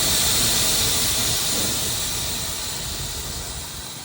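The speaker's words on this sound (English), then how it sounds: "when you pull up somewhere and you hear that car air out, like this here" Air suspension on a bagged Honda Civic EK airs out in one loud, sustained hiss that starts strong and slowly tapers over a few seconds, close by with no talk.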